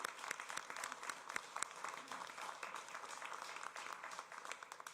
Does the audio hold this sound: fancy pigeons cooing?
no